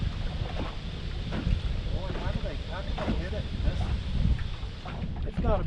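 Wind buffets the microphone in a loud, continuous rumble with water sloshing nearby on Lake Lanier during a fall fishing trip, while people talk over it.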